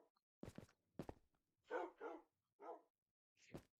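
Dogs bark in a handful of short, sharp bursts, fairly quiet and with no other sound between them, the last bark a brief yip-like call.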